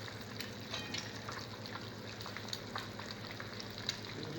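Eggs and dry pepper frying in oil in a pan give a steady, close, crackling sizzle with small pops scattered throughout, with no voices.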